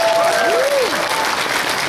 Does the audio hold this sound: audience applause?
yes